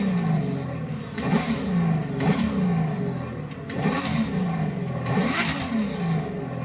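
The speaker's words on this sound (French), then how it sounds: "les Lamborghini jusqu'à la Murcielago avaient un moteur qui est un V12 qui s'appelle le V12 Bizzarini" A Lamborghini V12 engine revs in The Crew 2 racing game, rising and falling in repeated surges about once a second. It sounds loud and close, with a snarling tone that climbs and drops with each rev.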